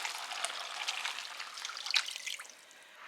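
Tap water trickling and splashing while an emptied tomato sauce can is rinsed in a home kitchen, a steady close hiss with small drips throughout, no talking.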